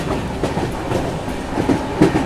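New Delhi–Darbhanga Bihar Sampark Kranti express train running, a steady rumbling roll with rhythmic clickety-clack of wheels over rail joints, heard from inside the moving coach.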